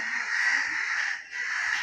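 A crow caws in a long, harsh, continuous call with a brief dip near the end, fairly loud and close.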